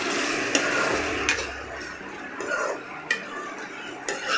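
Bombay duck fish being mixed with spices in a pan, with repeated stirring scrapes and light clinks of a utensil against the metal over a soft sizzle, close and steady.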